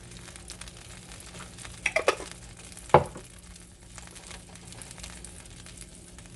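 Minced garlic sizzling in melted butter, a quiet low crackle near at hand, interrupted by a few soft scraping clatters and one sharp knock of utensil on pan, no speech.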